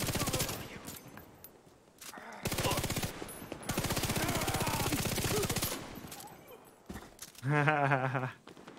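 Rapid automatic gunfire in a video game, with dense rattling bursts filling most of the stretch and short gaps between them, followed by a voice laughing or shouting near the end.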